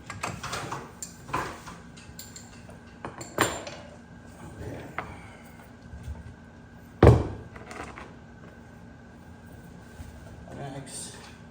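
Metal clunks and clanks ring out as a brake caliper is flipped up out of the way on a Can-Am Maverick X3 during rear wheel bearing work, with one louder knock among scattered taps and a person talking over it.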